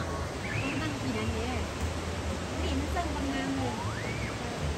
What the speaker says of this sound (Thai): นี่แม่นน้ำตกตาดเหงื่อเด้อท่านผู้ชมเด้ออยู่เมืองปากซอมแพง